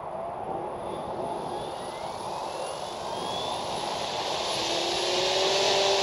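An OMP Hobby M4 RC helicopter flies with a continuous high whine of rotor and motor, pitch sliding up and down as it moves, growing gradually louder toward the end.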